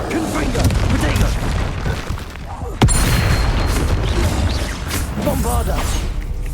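Bombarda explosion spells cast in Hogwarts Legacy on hard difficulty: heavy booming blasts and rumbling combat noise, with one sharp crack near the middle, under a voice calling out during the fight.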